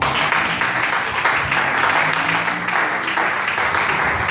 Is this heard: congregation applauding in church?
yes